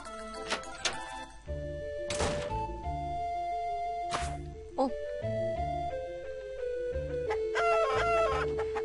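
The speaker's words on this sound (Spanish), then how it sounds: "Hay sonido de pollito." Sound effects from the horror RPG Mogeko Castle, with repeated chick-like chirps and clucks, short tonal blips and a few sharp hits, under some talking.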